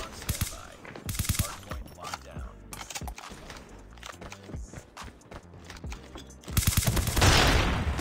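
Rapid bursts of ICR rifle fire from the video game Call of Duty Mobile crack out in short clusters, mixed with in-game footsteps and a heavy volley near the end, with a player speaking briefly between shots.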